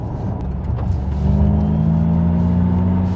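A deep Rover 3.5 litre V8 engine idling and rumbling up close, its low throb swelling slightly as it revs gently, with no talking.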